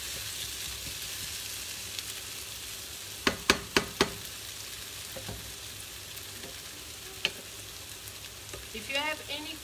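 A zucchini pasta sauce sizzles steadily in a pan, a soft continuous fry with a few sharp clinks of a utensil against the pan partway through and light stirring near the end.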